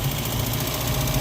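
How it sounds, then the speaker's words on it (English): A Datsun roadster engine, recently converted to flex-fuel EFI with an MS3pro Mini ECU, idles high with a steady, close, continuous drone and a faint knocking pulse. No one speaks over it. "There's the car idling really high."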